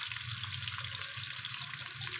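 Onions sizzling in ghee in a pan, a steady close crackle and hiss with no talk.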